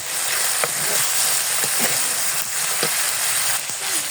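Spices and tomato paste are sautéed in a pan for a pangas fish curry, making a loud, dense sizzle with occasional scrapes from stirring.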